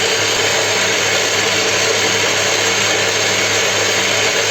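Electric mixer whipping sugar into cookie batter, a steady loud whirring drone with constant motor hum that runs unbroken from start to finish, close by and with no voices.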